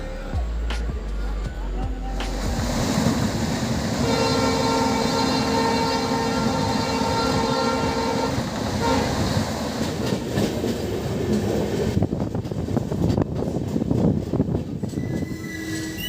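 An Indian Railways train running between Kanpur and Haridwar gives a loud, steady rolling rumble with rhythmic clatter and an extended tonal horn-like wail in the middle, heard up close from on board.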